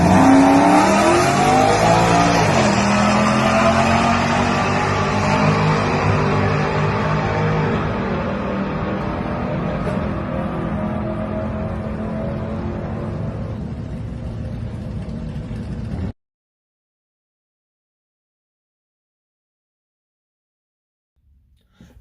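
A naturally aspirated Ram 1500 pickup with a 5/6-speed transmission on a quarter-mile drag run, its loud engine roaring steadily with rising revs and some tire noise for about sixteen seconds before cutting off to near silence.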